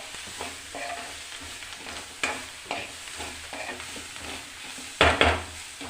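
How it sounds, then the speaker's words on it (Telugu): Food being stirred and fried in a pan, with scraping utensil strokes over a steady sizzle and a sharper, louder burst of frying near the end; no voices. "బాగా కలపాలి, కొంచెం ఫ్రై అయితే చాలు కదా."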